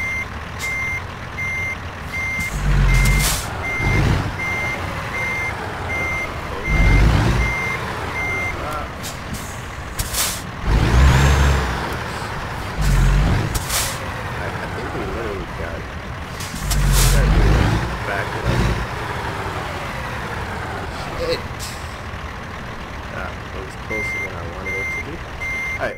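Reversing beeps from a truck backing up a trailer in American Truck Simulator, a steady repeating beep over the engine rumble, with air brake hisses and someone talking.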